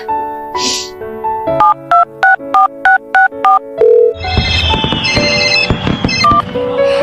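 A telephone rings out on a call home on New Year's Eve: a short series of evenly spaced electronic tones, loud and close, followed by a burst of bright, noisy sound.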